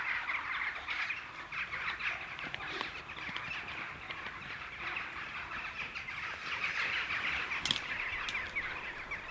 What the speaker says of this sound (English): Noisy, aren't they, them birds?